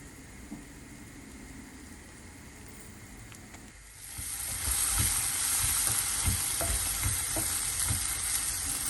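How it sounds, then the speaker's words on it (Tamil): Onions frying in a pan for a goat liver pepper fry sizzle softly at first, then the hiss swells louder as the onions are stirred, with scattered clicks and scrapes, no talk. "அதுக்காக வெங்காயம் நல்லா வதங்கி வரட்டும்"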